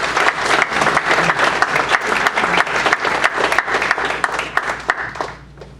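A room full of audience members at Truman State University applauds to welcome a guest speaker, with steady, dense clapping that carries on throughout and thins out toward the end.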